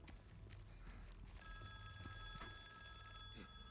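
A telephone rings inside a phone booth in the Silent Hill 2 Remake video game, repeated faint electronic bell trills over a low ambient hum.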